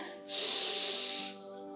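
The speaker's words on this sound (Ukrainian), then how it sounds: "Повільний вдих." A slow inhalation during a calming yoga stretching session, a single smooth breath drawn in through the nose for about a second, close and clear over faint background hum.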